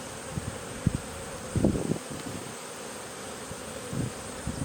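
Honey bees buzzing around an open hive during an October fall inspection, a continuous close drone with occasional louder passes and light rustling of frames.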